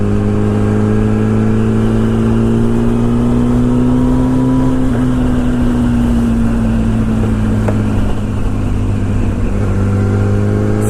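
A Yamaha R1 AMA pro racing motorcycle engine drones loud and steady during a test ride, its pitch rising and easing slightly with a constant roar and no pauses.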